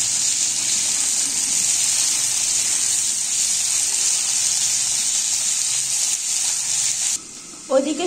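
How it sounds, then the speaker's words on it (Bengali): Radish and broad beans frying in a pan, a steady, loud sizzling hiss that carries on without a break and then drops away near the end, where a brief voice cuts in. "ওদিকে সবজিগুলো ভাজা হচ্ছে"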